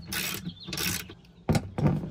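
A ratchet tightens the original bolts on an Alpine Mechanisms swivel bracket for a van seat, with two bursts of fast clicking followed by two louder, sharper bursts, close by and with no talking.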